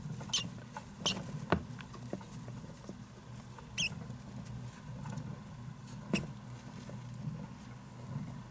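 Satin mice scurry in a cage as a male chases the females during mating, making light rustling patter with scattered sharp scratches and taps, close and continuous without talk.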